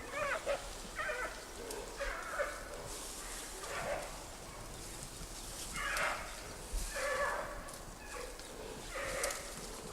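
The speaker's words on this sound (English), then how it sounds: "From the growls, it's obvious the males will have no energy left for fighting, as Lulu does with the females in Wulong." Wild giant pandas, males near a female in a tree, give repeated rough growling and yelping calls in bursts, close and fairly loud over a steady outdoor background.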